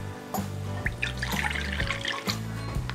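One cup of water is poured into a larger 3-litre batch of water for diluting cornstarch, a steady splashing and trickling pour heard nearby over a low background hum.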